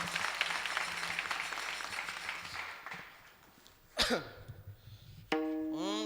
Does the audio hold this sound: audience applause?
yes